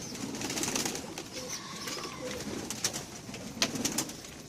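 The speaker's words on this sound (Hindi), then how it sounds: "ये सारे उड़ने वाले कबूतर हैं।" Caged high-flying Kabli and Patti pigeons coo softly, low throaty calls repeating over a faint background hum, with scattered small rustles and clicks nearby.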